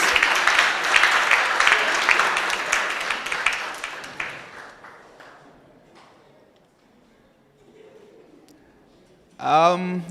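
An audience applauds at the closing ceremony of a 2022 science and technology innovation challenge; the clapping is full for a few seconds, thins out and fades, and then a voice speaks near the end.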